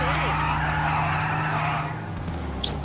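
A truck in Grand Theft Auto V drives with a steady engine drone and a long tire skid, loud and close, while voices talk over it.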